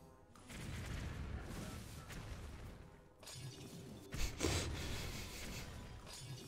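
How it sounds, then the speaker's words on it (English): Explosions go off in a video game puzzle, shattering blasts and crackling bursts in a few waves, with a sharp louder hit near the end. "That was just explosions."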